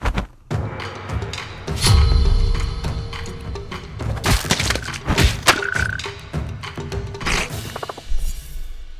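Video game frogs croak in a busy jumble of deep croaks, thumps and thuds, with several loud bursts spread across the span and no talking.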